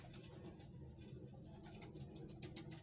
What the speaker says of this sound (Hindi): ए कबूतर है।